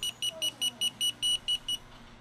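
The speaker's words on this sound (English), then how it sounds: "High sensitivity mode has its own unique audible alarm." A Testo 745 non-contact voltage tester in high-sensitivity mode sounds its alarm, a rapid series of about nine evenly spaced, loud, bright electronic beeps that stop abruptly, with no talking.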